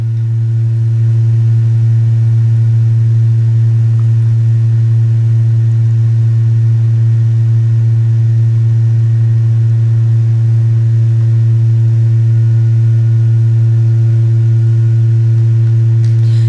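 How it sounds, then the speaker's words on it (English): Pure low sine tones from a water-based sound work, a few steady unbroken hums held together at constant pitch and loudness, loud and continuous throughout without any voices. "What you are hearing are pure sine tones."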